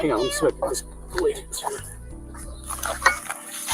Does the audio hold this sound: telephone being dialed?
no